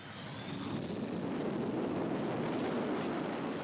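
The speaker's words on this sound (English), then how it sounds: "The plane hired to carry the bodies home flew into Gibraltar on Monday." A chartered airplane flying into Gibraltar gives a steady, broadband roar of engine and wind noise that swells slightly at the start and then holds constant, with no voices.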